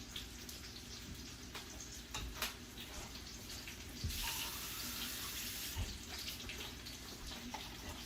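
Water runs steadily from a tap into a pot of tomato sauce, with a brief louder gush midway and faint kitchen clatter around it.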